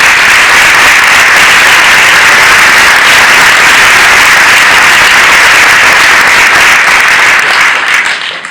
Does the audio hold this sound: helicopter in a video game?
no